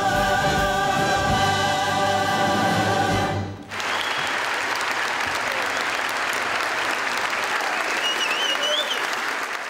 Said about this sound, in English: When we are standing on stage and we hear that applause